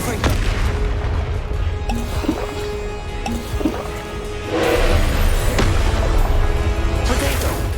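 Booming magical blasts from the Confringo spell in Hogwarts Legacy erupt during combat, several loud explosive thuds with crackling tails over game sounds and shouted spell incantations.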